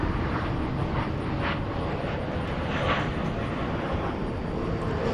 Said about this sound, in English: Here comes American Flight 3323 from Santa Ana, California on a MAX 8.